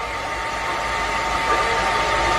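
An IteraCare handheld device blows air with a steady, loud whooshing hiss, close and unbroken, resembling a small hair dryer.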